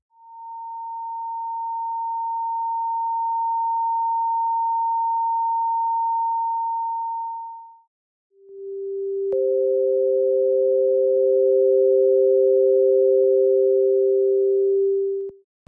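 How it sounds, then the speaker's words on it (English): An additive synthesizer sounds pure sine tones: one steady tone holds for about eight seconds, stops, then a lower tone returns with a second higher sine layered on top to begin building a sawtooth wave, clean and electronic with no voices. "an additive synthesizer, to produce this saw waveform"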